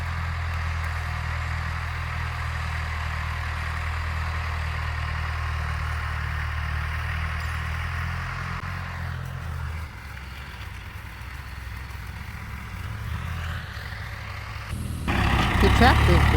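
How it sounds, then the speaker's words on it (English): A farm tractor engine works in the fields of an organic farm, a steady low droning rumble that shifts partway through and swells louder at the end. "The tractor's been pretty busy this week."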